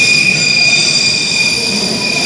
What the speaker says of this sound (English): There it goes, my train.